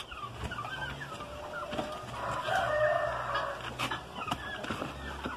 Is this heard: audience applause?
no